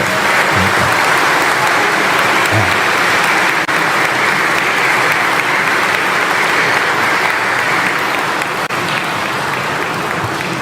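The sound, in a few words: congregation applause in a church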